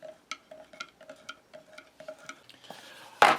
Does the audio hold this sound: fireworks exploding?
no